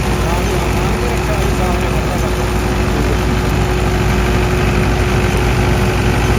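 A Farmtrac 6065 tractor engine idles with a steady, loud, close diesel drone and an even hum throughout, with what may be voices faintly under it.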